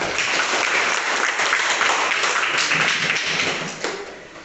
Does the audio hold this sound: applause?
yes